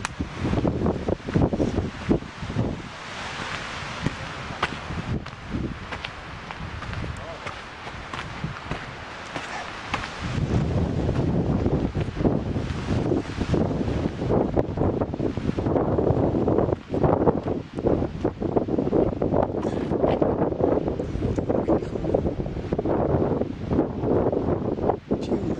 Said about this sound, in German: Es windet.